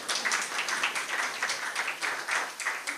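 Audience clapping at a book launch and award ceremony, a steady mid-level patter of many hands lasting a few seconds with no talk over it.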